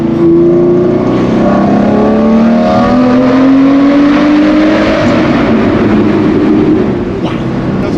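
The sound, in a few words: Lamborghini Murcielago engine echoing while driving through tunnel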